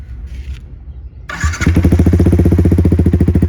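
After a quiet moment a modified Yamaha R15 V4 motorcycle cranks and fires on a cold start, then settles into a loud, rapid, evenly pulsing idle close by.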